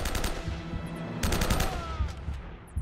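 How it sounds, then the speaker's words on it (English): Automatic M4 rifle fire in the action video game Uncharted, heard as rapid bursts of close gunshots: one at the start and a second around the middle, each trailing off into lower rumbling game sound. "M4! Hell yeah, one of my favorite guns."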